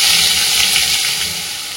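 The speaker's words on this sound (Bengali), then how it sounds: "গোটা গরম মশলা, এগুলো একটু ভাজা ভাজা করে, এগুলো ভাজা ভাজা হয়ে গেছে।" Whole garam masala spices, bay leaf, cumin and dried chilli frying in hot oil, a steady close sizzle with broad hiss running the whole time and easing slightly toward the end.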